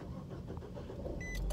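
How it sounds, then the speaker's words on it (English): A car with a failing battery cranks and its engine catches near the end, a low rumbling motor swelling under a steady hum, with a couple of brief high electronic tones. "Oh, I hope my car, oh, I hope it crank up."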